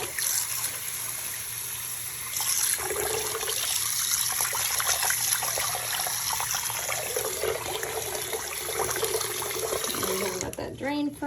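Running water rinses an Ikonart stencil, a steady close spray and trickle continuing throughout, with brief shifts as the stream is moved and a faint background hum.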